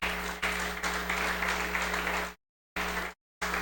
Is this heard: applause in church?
yes